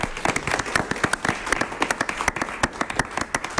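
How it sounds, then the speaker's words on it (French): Audience applause, a loud, dense burst of many hands clapping continuously throughout. "Merci de l'applaudir."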